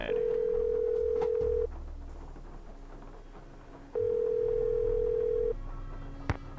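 Phone in the Nancy Drew Legend of the Crystal Skull game ringing, two long steady electronic rings separated by a pause, loud and alone with no talk.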